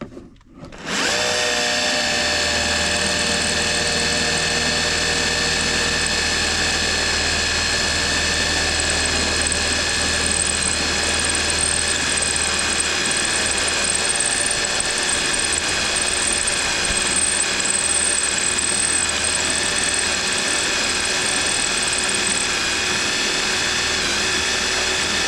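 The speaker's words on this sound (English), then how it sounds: "we're going to drill a test hole here between the two fittings" A power drill bores a test hole into a car between two fittings, running steadily and loudly with a high, whining pitch for about twenty-five seconds after a brief start, with no pauses.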